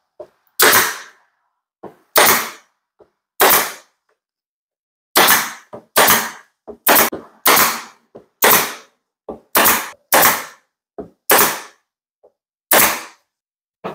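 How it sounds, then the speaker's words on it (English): A pin nailer fires pins into plywood cleat strips, sharp loud snaps spaced irregularly over the clip with quiet gaps between shots and no talking. "what I'm going to do is drive three pins in each one just to hold it securely while I screw it in from the back"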